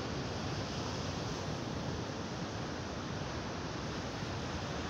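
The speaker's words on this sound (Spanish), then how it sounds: "Ahí está el preciosura mar aquí en la Baja California" Sea waves wash onto a beach at Baja California, a dense, steady roar of surf with wind-like hiss and no speech.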